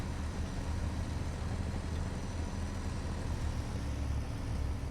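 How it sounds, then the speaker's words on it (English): Vehicle engines rumble in a World War II video game with a German Puma armoured car, a steady low droning hum that runs the whole time without a break and sits at a fairly strong, even level. "I can also hear engines towards my right side as well"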